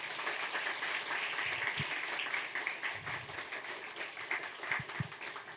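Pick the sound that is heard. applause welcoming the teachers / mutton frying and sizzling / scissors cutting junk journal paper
applause welcoming the teachers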